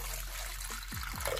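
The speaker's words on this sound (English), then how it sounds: "Next, I'm going to add clean water inside." Water pours steadily into a blender with a trickling, gurgling flow, a continuous liquid sound close by with a couple of rising glugs near the end.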